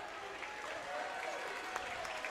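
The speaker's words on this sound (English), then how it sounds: "They'll get a nice round of applause from the crowd" Faint, distant crowd applause in a basketball gym as players check in, a steady wash of clapping and murmuring heard from afar.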